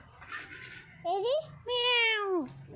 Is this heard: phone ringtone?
no